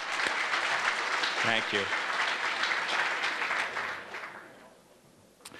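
Sustained audience applause at a 2016 education foundation gala fills the room and then fades away, while a speaker briefly says a few words over it.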